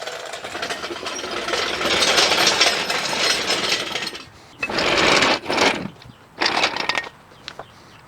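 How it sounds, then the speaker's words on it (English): An engine hoist lifts the engine out of a Mk6 car in a garage, giving a loud, steady mechanical grinding and whirring for about four seconds, then two shorter bursts of the same noise separated by brief pauses, with no talking. "get the engine hoist over here, lift this thing up. Prepare for loud noises."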